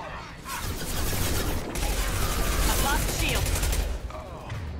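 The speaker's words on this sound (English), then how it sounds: "The Blue Suns and Vorcha shooting anything that moves." Continuous distant gunfire from Blue Suns mercenaries and Vorcha in Mass Effect 2, a steady rattling fusillade running under the whole stretch.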